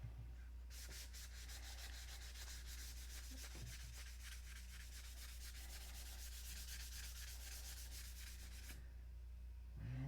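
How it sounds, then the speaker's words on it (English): Steady rhythmic hand sanding of a model stunt airplane's painted surface, wet sanding with quick back-and-forth rubbing strokes, close and continuous for most of the stretch before stopping near the end. "if you're going to wet sand"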